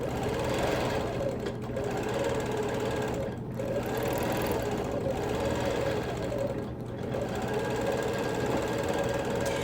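A quilting machine stitches a quilt in a long, continuous run, its steady rapid needle chatter and motor hum carrying close and loud with only brief dips, and no talking over it.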